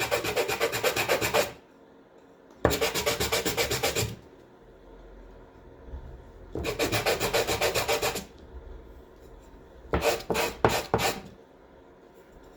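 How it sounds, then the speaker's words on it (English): Sandpaper rubs back and forth along the raw edge of a wooden stick while building a steaming box, several bursts of coarse rasping strokes separated by pauses, ending in short quick scrapes, close and without talk. "I literally take sandpaper, hold the stick on top, and just scrape back and forth"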